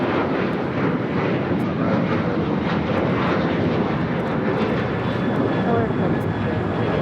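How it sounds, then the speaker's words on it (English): An American Airlines Boeing 737-800 in AirCal retro livery taking off from Los Angeles for Indianapolis, a loud, continuous jet engine roar close by with a faint voice talking beneath it. "1899 taking off to Indianapolis on the 737-800 in the AirCal retro livery"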